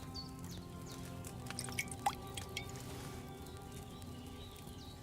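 Liquid drips and trickles during brewing in Kingdom Come: Deliverance II, a few soft, close drops rising over a steady low background hum, fairly quiet and with no talking.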